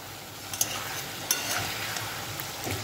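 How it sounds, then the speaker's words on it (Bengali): Fish pieces being stir-fried and turned in a spicy Bengali kalia gravy in a pan: a steady close sizzle with a few sharp scraping clicks from the stirring utensil, with no talking. "এই মাছগুলো দিয়ে এপিট ওপিট করে একটু কষিয়ে নেব"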